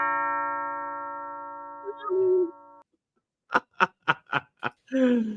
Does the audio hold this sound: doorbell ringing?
yes